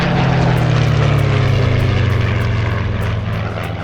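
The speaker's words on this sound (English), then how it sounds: "We've got a pair of Spitfires." A pair of Spitfire piston-engined fighter planes flying past at an airshow, their loud, steady propeller-engine roar holding strong throughout and easing slightly as they move away.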